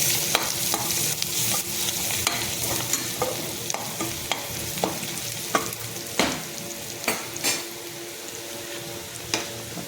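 A tadka with salt and turmeric sizzling in a pan for a potato bhaji, a steady hiss broken by repeated sharp scrapes and taps of a spoon stirring against the pan.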